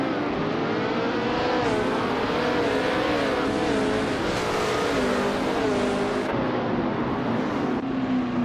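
Race car engines roar in a racing video game, several cars revving and shifting with rising and falling pitch, continuous and loud with overlapping engine tones throughout.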